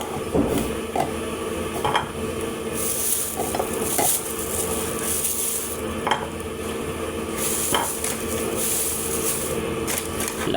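Chicken sisig with onions and chili is stirred in a frying pan, with a utensil scraping and clinking in a steady rhythm over a constant loud sizzle.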